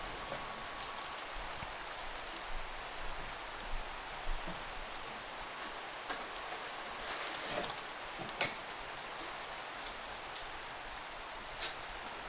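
Steady rainfall in the Minecraft modpack FTB Interactions, a constant even hiss of falling rain with scattered faint drips and patters across the whole stretch, with no voices.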